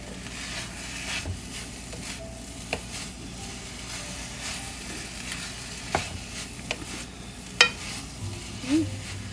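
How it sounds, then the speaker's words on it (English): Spicy tuna fried rice with chilies sizzles in a pan while being stirred, a continuous frying hiss broken by occasional scrapes and knocks of the utensil, close by and with no talk. "I'm going to give my rice a mix. Make sure that everything is well combined."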